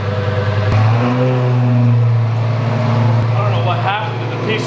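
A Lamborghini supercar's engine revs deep and loud nearby, its rising-and-falling roar sustained under a speaking voice.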